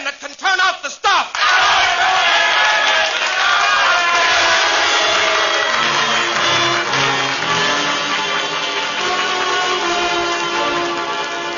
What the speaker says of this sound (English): Now they're cheering, but will they act?